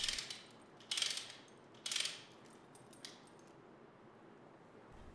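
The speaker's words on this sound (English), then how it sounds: "Select the direction you want the load to move and ratchet the handle" Metallic clicks of a 3.2-ton lever hoist's handle being ratcheted, a few sharp bursts spaced about a second apart followed by fainter ticks, close and alone.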